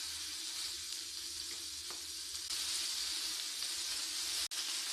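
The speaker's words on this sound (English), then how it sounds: "I will start to grill the samgyeopsal." Samgyeopsal pork belly sizzles steadily on a grill at home, a constant close frying hiss with a brief faint tap near the end.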